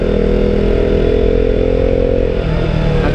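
A KTM RC 200 motorcycle engine buzzes steadily while riding, a loud, close, throaty drone that holds even revs and then dips slightly near the end.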